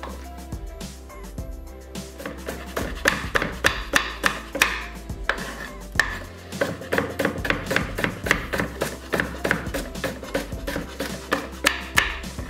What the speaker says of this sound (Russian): Огурец нарезаем пополам.